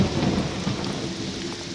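Steady rain and a low rolling thunder rumble in the Morrowind game world during a Project Cyrodiil playthrough, loud and continuous with no voices.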